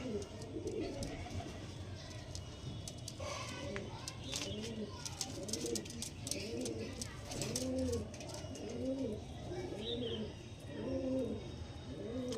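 Pigeons kept as personal birds in a home loft coo in a steady repeating rhythm, soft rolling calls close by over a constant low background hum.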